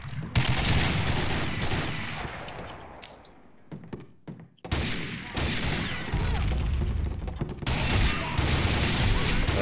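Bursts of AK-103 gold rifle fire in Combat Arms, loud sustained rapid gunfire with a short quieter gap and thuds midway, then heavy firing again to the end.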